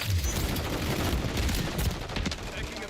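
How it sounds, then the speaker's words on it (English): Call of Duty gunfire while securing a hard point: dense, continuous rattling bursts of automatic fire with booming shots, loud and close throughout. "Taking effective fire."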